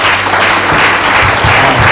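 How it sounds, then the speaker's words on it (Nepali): Wedding guests applaud the groom at a Christian wedding ceremony, a dense burst of steady clapping that fills the room for the full two seconds without a break. "हामी एकचोटि उहाँको लागि ताली बजाइदिन्छौँ"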